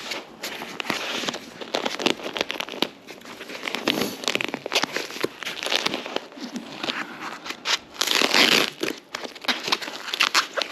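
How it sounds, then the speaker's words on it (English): Restoration parts for a 1968 Montgomery Ward Riverside 250 motorcycle being unwrapped from crinkly packing, with steady close rustling, tearing and crumpling that swells louder near the end. "Let's unwrap some more here."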